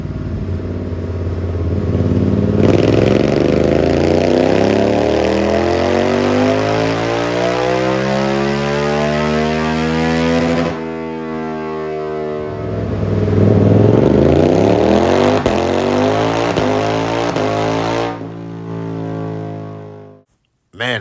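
Suzuki GSX8S motorcycle with a loud Toce aftermarket exhaust revved hard twice, each time climbing steeply in pitch then dropping back, close and loud, ending with a brief sharp blip.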